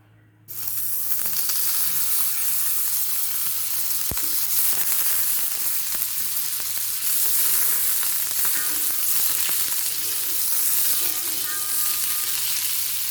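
Egg batter frying in butter in a pan on low flame for an egg sandwich burger, starting with a sudden loud sizzle and holding a bright, steady close hiss throughout, with one faint clink and no talk.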